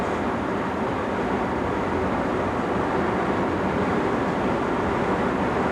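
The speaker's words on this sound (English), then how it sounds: "passing a parcels train on the right" A parcels train hauled by a Class 47 locomotive rushes past close by, heard from an HST cab, a steady broadband roar of wheels and wagons holding constant throughout.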